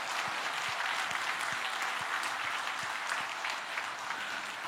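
Church congregation applauding to give thanks and glory at a 74th anniversary service: steady, dense rhythmic clapping from many hands, moderately close, with no talk over it.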